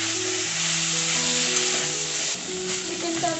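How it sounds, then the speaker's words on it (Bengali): Chicken fries with onion, ginger and garlic in a pan, giving a close, steady, dense sizzle that holds evenly throughout with no speech. "চিকেনটা আমার হালকা ফ্রাই হয়ে গেছে"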